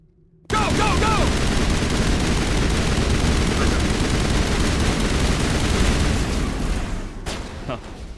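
Sustained assault rifle fire in the sci-fi shooter Mass Effect, a dense, loud, continuous burst of overlapping shots and impacts that runs for several seconds before dropping off, with one sharp crack near the end.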